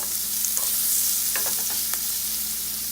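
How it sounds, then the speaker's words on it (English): Food in a frying pan is stirred for a single-serving Chinese dish, giving a steady, close sizzle with a few light scraping clicks from the utensil throughout. "Give that a little stir."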